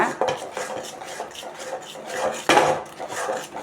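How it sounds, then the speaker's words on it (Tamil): Gram flour and milk being stirred together in a pan for a thirupagam sweet: a steady run of scraping, clinking spoon-against-pan strokes with an irregular rhythm and one sharper knock partway through. "பால் ஊற்றினதும் நல்லா இந்த மாதிரி கலந்து விட்டுக்குங்க"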